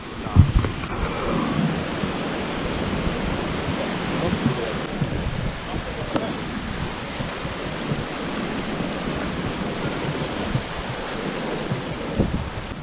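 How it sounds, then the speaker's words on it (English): Tosh Waterfall on a mountain trek in Himachal toward Kutla village gives a steady broadband rush of falling water. Wind buffets the microphone throughout. "There's a beautiful waterfall which is coming."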